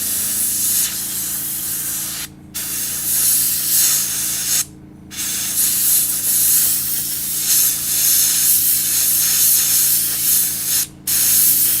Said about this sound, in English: My airbrush is getting that dried effect.